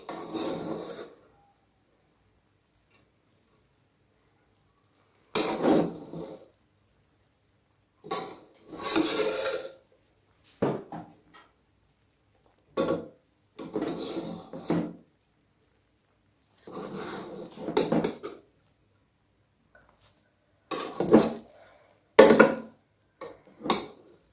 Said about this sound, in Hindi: अब मैं इनको मिक्स कर लेती हूँ।